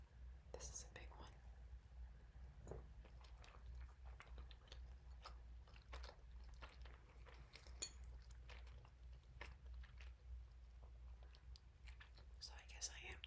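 Close-miked eating of pasta, soft wet chewing and biting with light clinks of cutlery against a dish, running steadily and quietly under whispered talk.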